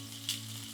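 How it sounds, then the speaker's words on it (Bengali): Potatoes fry in oil over a high flame, a steady close sizzle with a brief louder crackle partway through, over a faint low hum. "হাই ফ্লেমে কিছুক্ষণ আলুগুলোকে ভাজবো, যতক্ষণ না একটু লাল লাল আস্তরণ পড়ে যায়"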